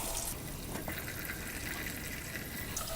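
Water is poured into a cooking pot while making Banga soup, a quiet continuous splashing trickle, faint and steady with no talking.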